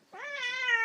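A cat with a stuck, hurt leg lets out one drawn-out, rising meow, close and fairly loud, with no talking over it.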